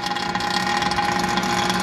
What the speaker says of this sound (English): So I just turned on my vacuum pump